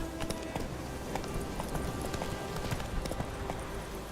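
Horse hooves galloping in a video game, a steady rhythmic clip-clop of hoofbeats at moderate distance, fairly quiet and continuous.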